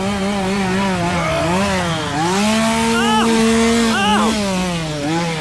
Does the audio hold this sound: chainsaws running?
yes